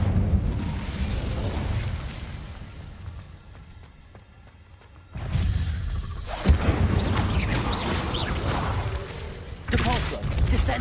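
A burst of fire from the Incendio spell cast in the Hogwarts Legacy game, a loud whooshing blast that rises after a quieter stretch, with a sharp pop and continuing roar amid other game sounds.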